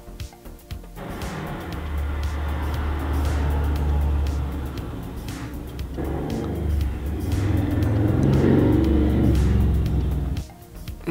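A car engine revs outside, its low droning motor rising and falling in repeated surges over several seconds, fairly prominent and alone before cutting off near the end.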